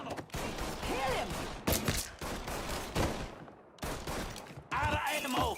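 Heavy gunfire from a Mafia 3 shootout, loud bursts and sustained volleys throughout, with shouted voices mixed into the chaos.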